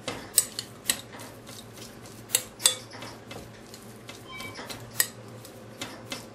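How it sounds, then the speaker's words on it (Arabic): Meatball ingredients mixed in a bowl with a utensil, producing sharp clinks and taps at an irregular pace over soft background noise, close by. "نخلط المقادير ببعضها."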